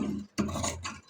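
Scissors cutting through blouse fabric at a tailor's table, two short rasping snips close up with a brief gap between them.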